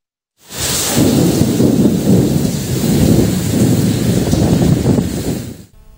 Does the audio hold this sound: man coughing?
no